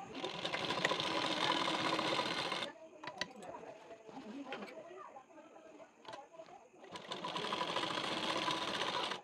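A sewing machine stitches a blouse shoulder seam with a half-inch gap, running in two steady bursts of dense rapid needle rhythm at the start and end, with quieter handling and faint fabric rustle in between.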